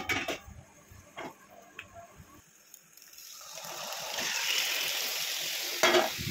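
Chicken going into hot oil and being stirred for a curd chicken curry, with spatula knocks and scrapes at first, then a swelling, steady frying hiss that grows louder and stays close.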